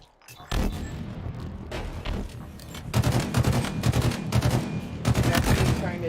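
Rapid gunfire in a Halo multiplayer ball match: dense bursts of automatic shots and booming impacts that run almost without pause and sit loud and close.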